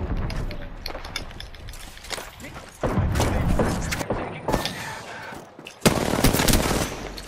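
Loud bursts of rapid gunfire in Apex Legends with heavy thumps, coming in clustered volleys with brief lulls between them.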